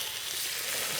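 Pieces of Chinese dim sum turnip cake made with corn flour and rice flour start frying in a pan of hot oil, a continuous close hiss of sizzling that holds steady and fairly loud.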